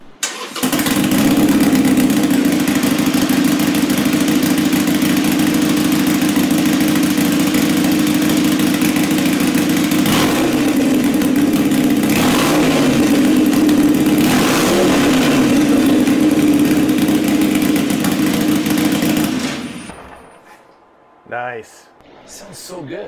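A Harley-Davidson Sportster fitted with a Gallop Flying Comet exhaust starts up and holds a loud, steady idle with a few blips of revving over about twenty seconds, then cuts off, with brief talk afterward.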